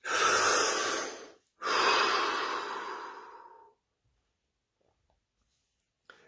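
A deep breath drawn in during a guided breathing exercise, two long broadband breathy swells with a brief pause between, loud and close, then fading into near silence.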